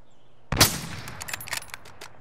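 A burst of gunfire in Call of Duty: Modern Warfare, a sharp loud shot followed by a rapid string of fainter cracking rounds trailing off, with no talk over it.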